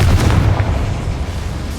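A Confringo fire spell blasts a boiler in the video game Hogwarts Legacy, giving a loud, deep boom that rumbles and fades over under two seconds, with no talking.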